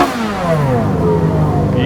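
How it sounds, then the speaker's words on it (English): A stock Ferrari V8 revs hard at a supercar track-day sound-off, the loud engine note sweeping and climbing sharply close by, with a voice over it. "Let's hear a V8 Ferrari sing."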